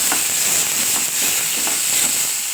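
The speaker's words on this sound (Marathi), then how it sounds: "कढईमध्ये तेल टाकून थोडा पावटा परतून घ्यायचा." Steady, loud sizzling of pavta beans frying in hot oil in a kadhai, a continuous close hiss with faint periodic scraping as they are stirred, no voices.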